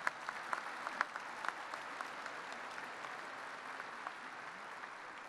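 A large audience applauds in tribute to veterans, sustained crowd clapping with a few sharper claps standing out near the start, holding at a steady moderate level throughout.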